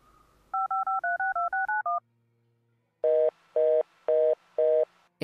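Telephone keypad dialing in the video game Geheimakte FBI: a quick run of eight touch-tone beeps, a short pause, then four evenly spaced longer ringing tones, clean and alone.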